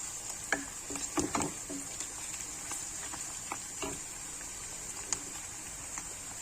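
Onions cooking in a pan as a spoonful of salt goes in, a faint steady sizzle with scattered soft scrapes and light stirring taps, quiet and close with no talk.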